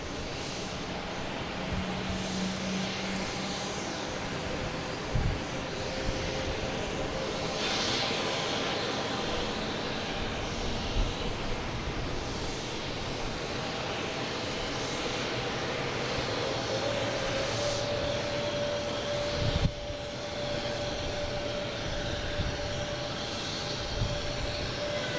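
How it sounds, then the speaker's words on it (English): Delta Air Lines Airbus A319 arriving from Chicago at Boston Logan, a steady broadband engine roar with a low tonal whine holding throughout, fairly distant and even in level. "We have Delta flight 2816 coming in from Chicago"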